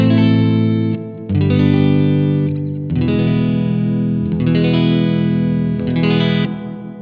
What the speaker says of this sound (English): And an echo effect.